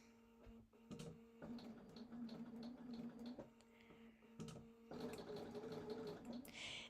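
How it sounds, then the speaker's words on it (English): A sewing machine stitches a Halloween quilt on a mat, its steady close motor whir running in long bursts with brief pauses near the start and middle. "So then I'm going to start sewing."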